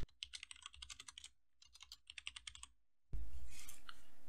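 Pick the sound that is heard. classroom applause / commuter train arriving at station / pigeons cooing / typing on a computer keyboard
typing on a computer keyboard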